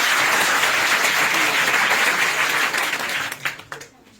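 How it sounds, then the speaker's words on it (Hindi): Loud, dense applause from a large audience at a motivational talk, sustained for several seconds before thinning into a few scattered claps and dying away. "चाहूंगा कि सर के लिए, इंस्टीट्यूट के लिए आप अपने लिए जबरदस्त ताली बजा दीजिए।"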